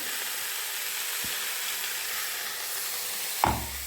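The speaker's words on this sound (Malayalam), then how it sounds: "മുളക് ചെറുതെറുപ്പായിട്ട് പൊടിച്ചത് അത് നമ്മൾ ഇതിലേക്ക് ഇട്ട് കൊടുക്കാം" Chili powder drops into a hot pan for a curry, giving a steady broadband frying sizzle and hiss throughout, with a brief clatter near the end; no one speaks.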